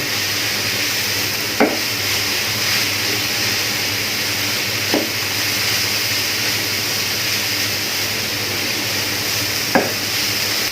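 Grated carrots cooking in ghee in a pan give a steady sizzle, broken by a few sharp scrapes of a spoon stirring at intervals, close and fairly loud with no talking.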